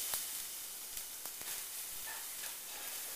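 Soft, steady sizzling of green pepper, sweet potato and quinoa frying in a small pan, with a few faint clicks and scrapes over the hiss.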